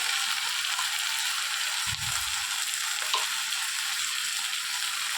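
Ground cumin, turmeric and a little sugar fry in hot oil in a pan for a cauliflower and duck-egg curry, a steady close sizzle with a brief low scrape of stirring partway through.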